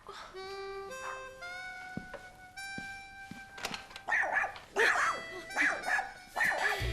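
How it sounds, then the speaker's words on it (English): Small chihuahuas yap and bark in sharp, high bursts from about four seconds on, several quick barks in a row over a faint musical tone, moderately close and loud. "Those chihuahuas are vicious."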